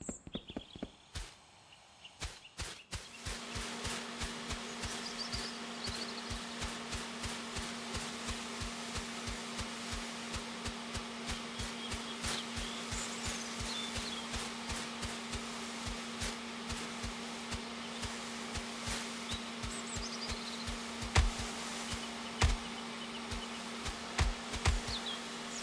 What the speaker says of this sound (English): And we have the blower. This should speed us up quite a bit.